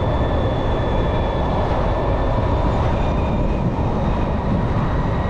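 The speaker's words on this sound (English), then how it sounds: "It's actually fun out here on these roads, just throttling down the road here, these backcountry roads." A 2022 LiveWire One electric motorcycle rides along a backcountry road with a loud, constant rush of wind and road noise, overlaid by a thin, steady high-pitched motor whine.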